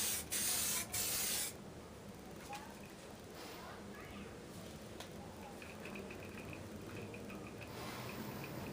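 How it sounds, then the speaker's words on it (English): A rattle can spraying clear coat onto a car part: a steady, close hiss of aerosol that carries on for several seconds after a few short, louder bursts at the start. "this is probably the limit of where you would want to take a rattle can"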